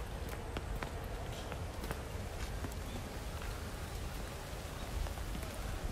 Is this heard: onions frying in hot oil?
no